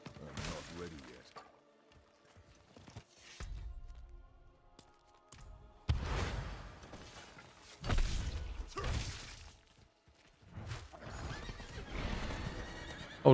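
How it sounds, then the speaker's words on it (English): Horse neighing and hooves clip-clopping in the video game Diablo IV, with several separate bursts of whinnying and hoof clatter broken by pauses, heard among other game sounds and a speaking voice. "Get on the horse."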